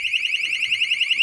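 Home security alarm sounding after a glass break sensor test, a loud piercing electronic tone warbling rapidly and steadily, close and continuous with no other sound.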